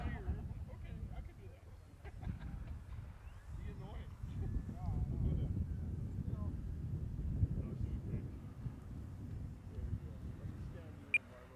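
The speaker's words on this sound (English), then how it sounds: "Wind is really kicking up." Strong wind gusts roar across an outdoor RC glider flying field during a flight of an FMS Fox V2 2300mm glider, a steady low rumble buffeting the microphone throughout, with a voice faintly present at times.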